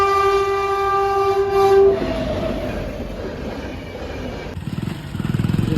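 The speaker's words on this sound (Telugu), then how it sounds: "గేట్ అయితే పడింది రైల్వే ట్రాక్ దగ్గర జాయిస్ ట్రైన్ అయితే వస్తుంది" A loud, sustained train horn blares at a railway level crossing with the gate down, then a train rumbles past close by with a rhythmic clickety-clack of wheels over the rails.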